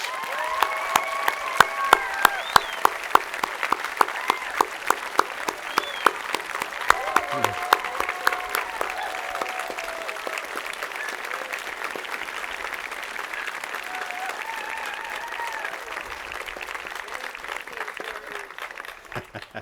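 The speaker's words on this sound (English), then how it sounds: "Please join me in giving them a heartfelt round of applause." Sustained graduation-ceremony applause from an audience honoring faculty and staff, a dense even patter of clapping lasting the whole stretch and tapering slightly at the end, with faint voices mixed in.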